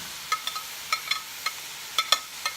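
Celery and carrots going into a pot for chicken vegetable soup, giving a string of light, crisp taps and clicks, about nine scattered hits over a faint sizzling background.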